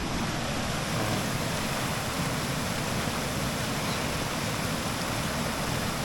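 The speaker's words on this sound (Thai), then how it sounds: "สวยงามน้ำตกใกล้ๆบ้านเราครับ" Hin Tang waterfall in Udon Thani, a forest recreation park, roars as a steady, dense rush of falling water, loud and unbroken throughout with no voices.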